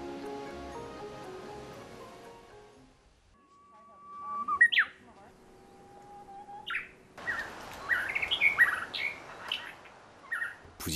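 Morning birdsong in a Hawaiian forest: clear chirps and whistled calls, near and fairly loud, come in bursts across the second half, over a hushed, surf-like background, with faint voices or music earlier on.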